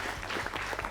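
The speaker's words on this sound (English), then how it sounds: "So let's clap for Manas." A studio audience claps for a quiz contestant in a brief burst of quick, fairly faint applause.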